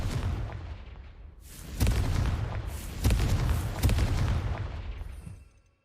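Hogwarts Legacy gameplay with the Confringo explosive spell cast in combat, heard as a run of booming blasts and fiery bursts that swell and fade across several seconds, with no talking.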